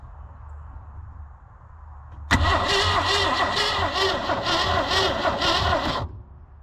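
An old mail truck engine cranks and catches suddenly after a quiet stretch, then runs loud and close with throaty revving pulses for several seconds before dropping back.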